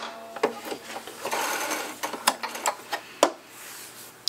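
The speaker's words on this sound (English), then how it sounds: "lock it in by doing some back stitching" A Singer Brilliance 6180 sewing machine back stitches to lock a seam, giving short bursts of rapid mechanical whirring broken by clunks and clicks, close and clear.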